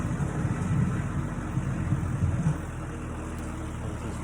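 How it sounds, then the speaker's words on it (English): A heavy tractor engine rumbles low and steady nearby, louder at first and then fading as the tractor moves off. "there's a tractor coming"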